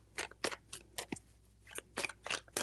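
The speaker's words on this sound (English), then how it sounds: "3 shuffles." Tarot cards shuffled in three bursts, crisp papery riffles and snaps with short pauses between, close and fairly loud with no talking.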